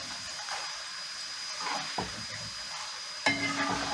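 Dough pieces for chak-chak fry in hot oil with a steady, even sizzle and hiss, broken by a couple of brief clinks and stirring sounds.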